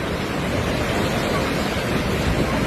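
Floodwater of the swollen Mai river rushing in a steady, loud, dense roar that stays broadband and unbroken throughout, close by, with no voices.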